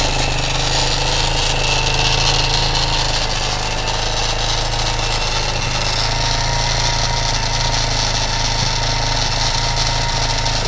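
A 230 engine swapped into a Ctx200 frame idles steadily throughout, with a rattly, tapping top end buzzing over a continuous low drone, close and fairly loud.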